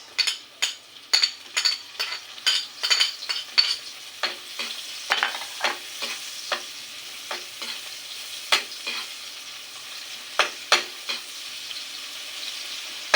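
Garlic and onion sauté in a pan, a steady sizzle broken by a long series of sharp, rhythmic scrapes and taps of a spatula against the pan, close and fairly loud, with no voices.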